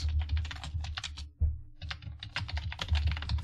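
Rapid, steady typing on a computer keyboard while working with git, with dense clicking keystrokes close up and one brief pause partway through.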